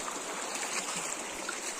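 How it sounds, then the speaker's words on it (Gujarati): A forest stream with a strong current flows in a steady, dense wash of water sound, continuous and fairly close, with no voices. "પાણીનો બહાવ વધારે છે"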